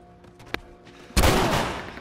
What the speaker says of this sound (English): shot him in the face with the shotgun